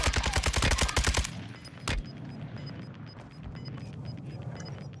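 Warzone 2 video game gunfire: a loud rapid automatic burst up close, then a single heavy shot and a quieter stretch with distant tapping sounds.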